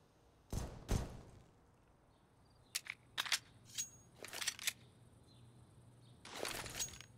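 Glock pistol shots spammed in a CS:GO match on the Inferno map, scattered sharp cracks fired singly and in quick clusters, fairly faint and distant over a quiet game background.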